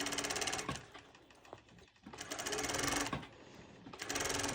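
A sewing machine stitches a sporty long-sleeved top in quick, steady runs. The rapid mechanical chatter stops briefly between bursts and sounds close and clear, with no talking.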